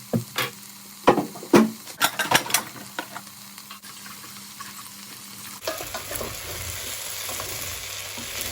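Potatoes frying in a pan for a Spanish tortilla, with a run of loud clattering stirs and knocks of a utensil early on, then a steadier crackling sizzle that brightens into a hiss near the end.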